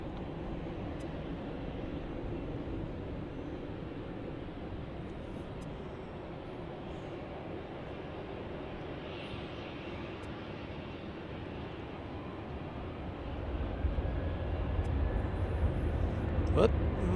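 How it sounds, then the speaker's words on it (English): A Primair Boeing 737 at Cincinnati airport, heard as a steady distant jet roar that swells louder toward the end, with no voices over it. "Here comes another Primair 737."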